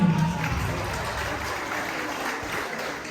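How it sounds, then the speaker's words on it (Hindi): Sustained applause from an audience at a farewell program for a 2023 D.El.Ed diet batch in Pratapgarh, steady broadband clapping that holds at an even level across the clip, with a faint voice briefly at the start. "तालियां बजती रहनी चाहिए, तालियां नहीं रुकनी चाहिए"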